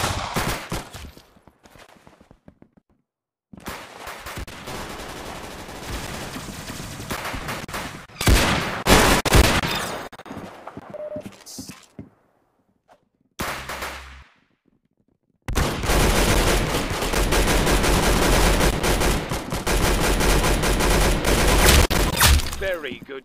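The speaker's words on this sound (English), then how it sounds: "Very good shooting." Rapid bursts of gunfire from a Roblox Arsenal match, loud, with near bursts broken by short gaps and a long sustained volley at the end, with some voices in between.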